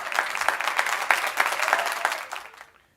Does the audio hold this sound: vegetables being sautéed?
no